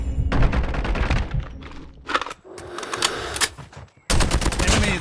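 DR-H assault rifle firing in COD Mobile, rapid automatic bursts broken by short pauses, loud and close, with a sharp final burst after a brief silence.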